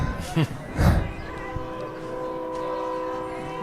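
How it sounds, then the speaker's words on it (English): Train horn sounding near a high school baseball field, a steady sustained blast with horizontal tonal bands running through most of the clip, preceded by a couple of brief bursts of crowd or voice noise. "And here comes the train."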